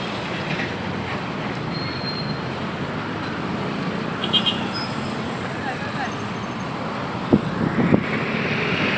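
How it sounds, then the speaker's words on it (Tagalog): Dense road traffic near a toll gate forms a loud, continuous rumble with passing vehicles and a few sharp squeals, steady throughout. "Ito po yung sitwasyon ng traffic dito sa amin mga toro."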